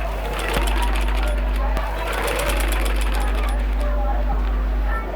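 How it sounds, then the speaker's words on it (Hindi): A sewing machine, its speed set by a foot pedal motor, whirs steadily as a stitch begins, with a constant low motor hum, light rapid ticking and a couple of small clicks, close up. "उसके बाद हम अपनी स्टिच स्टार्ट करेंगे।"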